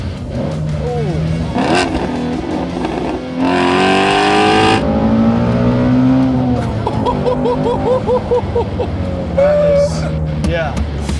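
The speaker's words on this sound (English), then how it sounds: "That's a very high-strung engine" The high-strung engine of a Ford performance car revs hard and accelerates in loud rising and falling sweeps, heard from inside during a test drive, with people talking over it.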